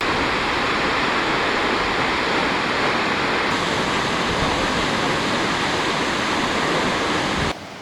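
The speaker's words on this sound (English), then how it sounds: "This is Njupeskär. This is Sweden's highest waterfall." Njupeskär, Sweden's highest waterfall at 93 meters, roars as a loud, steady rush of falling water with no other sounds, cutting off abruptly at the end.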